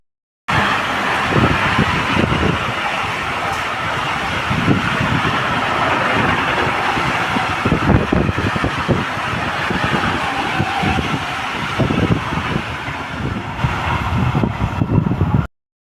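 A steady rumbling ride inside a moving train, with constant low-frequency drone and rattling bumps from the carriage throughout.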